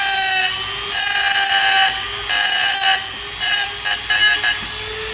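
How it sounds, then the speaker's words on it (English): Small Dremel rotary tool grinds a piano butt flange in short bursts, a close, loud high-pitched whine that starts and stops several times with quieter idling between. "I use this little Dremel here"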